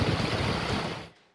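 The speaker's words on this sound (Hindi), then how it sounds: "शहर में तेज हवाओं के साथ तूफानी बारिश से गर्मी का जोर टूट गया।" Stormy monsoon rain driven by strong winds in Quetta: a brief, loud, steady wash of broadband noise that fades out abruptly.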